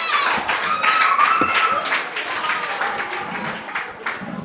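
A school audience applauds contestants in an upper primary maths quiz, a steady patter of many hands clapping close by that gradually thins out toward the end.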